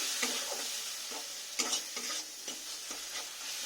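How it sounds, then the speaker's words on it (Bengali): Masala with Kashmiri chilli powder sizzles in hot oil while a spoon stirs it in short, regular scraping strokes, close up and fairly quiet, with no voices. "একটু ভালো করে আমি মশলাটা কষে নেব"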